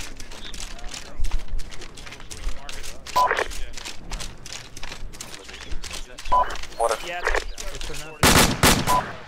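Gunfire in the military video game Arma during a ShackTac operation, bursts of rifle and machine-gun shots, some distant and some close and loud near the end, under players talking over radio.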